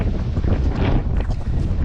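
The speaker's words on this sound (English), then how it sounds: "maybe I can block the wind a little bit here" Strong gusting wind buffeting a microphone on a nasty day at the beach, a loud low rumbling roar that swells and fades unevenly, close and continuous.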